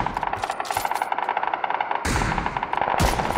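Automatic weapon fire in PUBG, the online shooter, as quick steady bursts of shots with brief pauses and a heavier crack near the end, loud and close with no talk.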